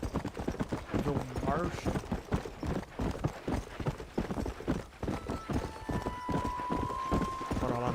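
Horse hooves clip-clop in a steady, close rhythm in the PC version of the video game Red Dead Redemption, under someone talking almost continuously over the gameplay.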